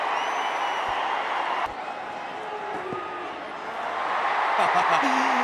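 Crowd at a cricket stadium during an India vs West Indies T20 match, a broad steady roar of cheering that swells louder toward the end, with a commentator talking over it.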